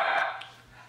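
A pet dog gives a single sharp bark indoors in a home kitchen, fairly close, then the sound quickly dies away into quiet room tone.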